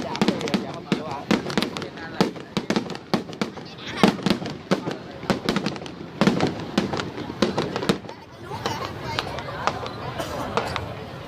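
Fireworks and firecrackers bang in rapid, irregular bursts throughout a celebratory display, loud and close, with people chattering underneath the crackling pops.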